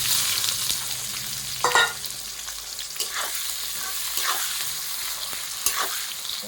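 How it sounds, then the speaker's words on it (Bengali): Onion frying in oil already seasoned with cardamom, cinnamon and cumin for a spicy jackfruit curry, a continuous bright sizzle with a few scraping stirs, close-up and steady, no voices. "এরপর আমি এখানে পেঁয়াজটা দিয়ে দিচ্ছি"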